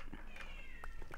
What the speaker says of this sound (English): That was my cat. Shut up,